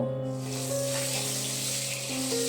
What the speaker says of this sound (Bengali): তেলটা গরম হয়ে গেলে প্রথমেই আলুগুলোকে ভেজে নেব